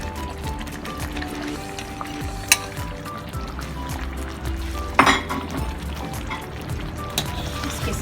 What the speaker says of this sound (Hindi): फिर इसमें डालेंगे घी।